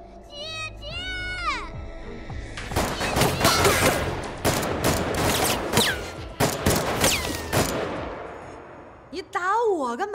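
Dense bursts of gunfire ring out in a Chinese action crime film about a sniper assassination squad, with loud volleys running for several seconds and voices calling out before and after the shooting.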